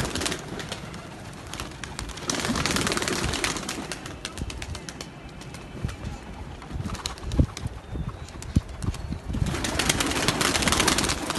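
A flock of domestic pigeons is released with a waved cloth in Lahore in winter, a long continuous rush of wingbeats and flutter with scattered coos, dense and close throughout.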